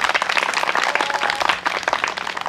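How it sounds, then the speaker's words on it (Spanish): Audience applause at a school-support event, a short, dense burst of clapping from a crowd at fairly close range. "Pues aquí está, fuerte el aplauso."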